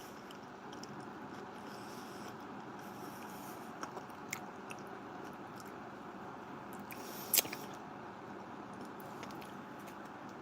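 A person chewing a crunchy sandwich from a First Strike Ration military meal, quiet continuous close-up mastication with a few soft crunches and one sharper bite.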